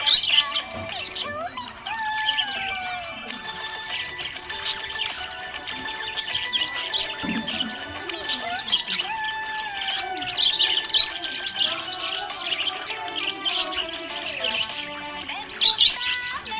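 A pet budgie chirps and tweets steadily throughout, with bright repeated calls, short whistles and occasional squawky notes, close and fairly loud over a musical background.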